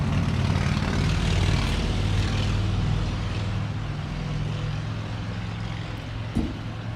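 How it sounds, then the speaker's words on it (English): A motorcycle passes by outdoors, its engine a steady, fairly loud drone with a low rumble that slowly eases off as it moves away. No one speaks. "Speaking of motorcycles, there you go. There's one right there."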